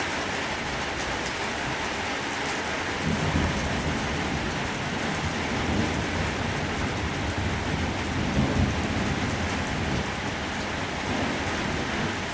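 Heavy rain pours steadily through a severe thunderstorm with strong winds and nonstop lightning, a dense continuous roar close to the microphone, with low rolls of thunder swelling beneath it around the middle and again later.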